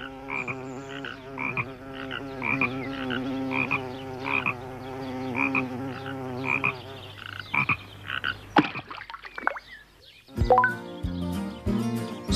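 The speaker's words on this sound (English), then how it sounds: "Frog." A frog croaks from a pond in a steady rhythmic series of close, resonant calls, joined toward the end by brief higher chirps and other short sounds.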